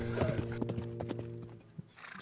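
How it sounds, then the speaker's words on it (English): Horse hooves clop in a quick, steady rhythm with a loud whinnying neigh layered over them, close and prominent, fading toward the end with a brief knock; no one speaks. "our horse clopping over the hill"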